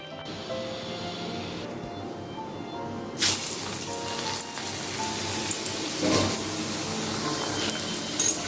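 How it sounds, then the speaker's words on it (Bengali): Long-cut potato pieces fry in oil as the first step of a light ridge gourd, potato and drumstick curry: a quiet start, then a loud burst of sizzling about three seconds in that keeps hissing steadily. "প্রথমে আলুটা ভেজে নিচ্ছি"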